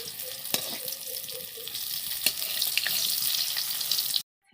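Potato pieces, about six cut from one potato, frying in a home kitchen pan: a steady bright sizzle of hot oil with occasional sharp pops and crackles, continuous until it cuts off abruptly.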